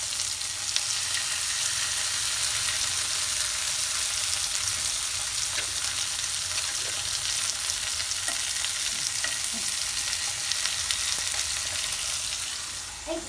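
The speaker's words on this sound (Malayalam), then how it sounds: "മീൻ നല്ലോണം പൊരിഞ്ഞ് നിൽക്കാണ്" Fish fries in a hot pan, giving a steady, dense sizzle and crackle that runs unbroken throughout with no voices.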